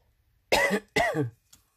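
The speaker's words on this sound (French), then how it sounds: "Excusez-moi, je tousse." Two harsh coughs close to the microphone in quick succession, then a faint short sound after, with silence around them.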